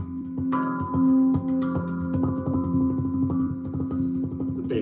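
A handpan tuned to a pygmy scale, played by hand with a run of soft ringing metallic notes that overlap and sustain, close and fairly quiet, alone without talk.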